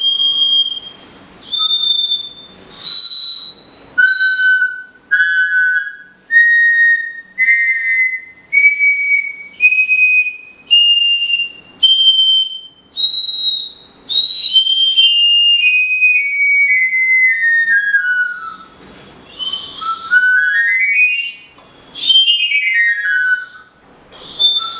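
A whistle flute plays a stepwise rising scale of short, bright notes separated by brief breaths, then slides through sweeping glides down and up. The tones are clear and close, with no talking.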